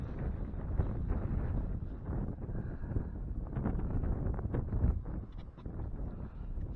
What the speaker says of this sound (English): the wind is blowing that way. Pretty stiff breeze.